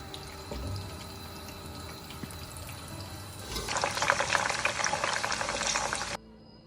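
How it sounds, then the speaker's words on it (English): Low background hum, then a loud burst of bubbling, crackling sizzle as chicken drops into hot oil in a wok, continuing for a few seconds before cutting off. "now we will place it in this wok for deep frying"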